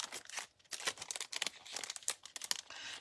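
Paper of a folded, glued bookbinding-style Christmas card crinkles and rustles in bursts as it is opened, with short crisp crackles and light tearing-like scrapes close to the ear; no one talks.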